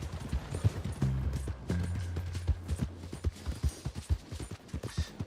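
Horse hooves clop in an irregular trotting rhythm in the video game Red Dead Redemption 2, fairly close and moderate in level, mixed with a low rumbling background and little talk.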